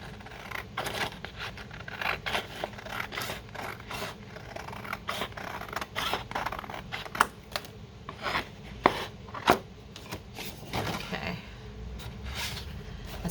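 Scissors trimming the edge of a 12x12 paper pad at a crafting table, a run of close, irregular snips and rustling cuts with a few sharper clicks across the whole span, no talking.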